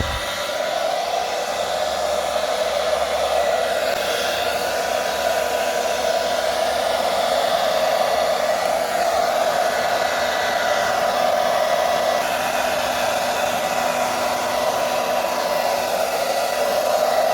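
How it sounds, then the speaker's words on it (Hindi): A hair dryer runs steadily and loudly at home while drying children's hair after their bath, a constant whooshing blower roar with no pauses for the whole stretch. "अभी हम लगाते हैं हेयर ड्रायर।"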